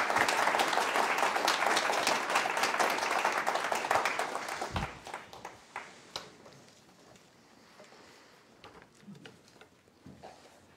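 A church congregation at a Sunday worship service breaks into warm applause, a dense burst of clapping that fades after about five seconds into scattered, thinning claps.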